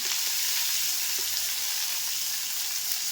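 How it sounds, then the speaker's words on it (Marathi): Fresh spring onions sizzling in hot oil after a cumin tempering, a steady dense hiss of frying, close and continuous with no stirring or voices. "जिरं, छान तडका झालं की मग तेलातच फ्रेश कांदा पात घालायचा."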